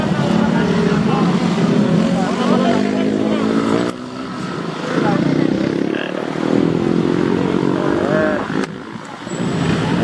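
A Honda PCX scooter engine hums loudly as it passes close by on a road, its pitch shifting as it goes, amid busy roadside traffic noise.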